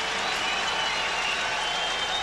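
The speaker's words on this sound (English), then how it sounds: "it's the Buckeyes fans who are cheering here at halftime" Ohio State Buckeyes fans roaring at halftime in a packed Michigan Stadium, a steady wall of crowd cheering and clapping from a large, distant mass of people.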